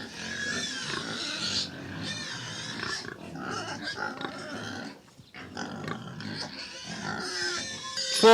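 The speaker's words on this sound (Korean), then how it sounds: "저기 새끼 돼지들이 있어요" Piglets grunting and squealing on a farm pen, several young pigs overlapping in a busy, fairly close chorus that runs throughout with brief dips.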